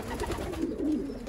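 Pigeons in a breeding loft give low, continuous throaty cooing, close and steady throughout.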